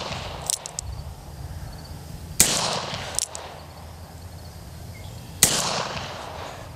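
About four sharp, separate gunshots crack from firearms at a shooting range. They come at irregular intervals, with crickets chirping steadily in the quiet between them.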